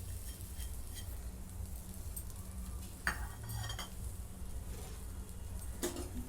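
Grated coconut and jaggery being stirred in a pan over very low heat, faint scraping and occasional clinks of a spoon against the metal, quiet and close over a low steady hum, with no talking.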